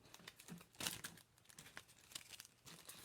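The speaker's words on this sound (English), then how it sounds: "I got to take these out of the plastic, I think." Paper pieces are pulled from crinkly plastic packaging, giving close, irregular bursts of crackling and rustling with one louder crunch, and no voices.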